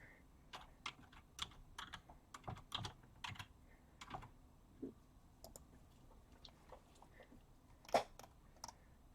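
Keystrokes tapped on a computer keyboard in bursts of quick clicks with short pauses, quiet and close, in an otherwise still room.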